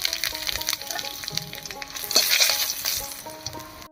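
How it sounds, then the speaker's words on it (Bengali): Black cumin seeds and a few dried red chilli pieces crackle and sizzle in hot mustard oil in a kadai, a close, busy frying hiss with small pops that swells briefly midway and stops abruptly. "ফোড়নের জন্য দেব 1 চামচ কালো জিরা আর 3-4 টুকরা শুকনো লঙ্কা।"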